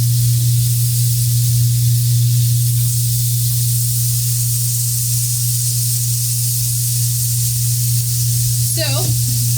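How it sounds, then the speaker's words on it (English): Food is rinsed under a running kitchen tap, a steady close hiss of water flowing throughout, with a brief squeaky sound near the end. "So I'm just going to do a quick rinse of this."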